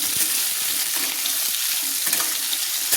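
Potatoes sizzle and crackle continuously in hot oil while a spatula stirs them, a close, steady frying hiss with no talking.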